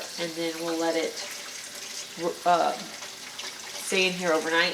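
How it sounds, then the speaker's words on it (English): Tap water runs steadily into a roaster oven packed with pork bones for broth, a continuous rushing hiss beneath a person talking. "So I'm just going to fill this up with water"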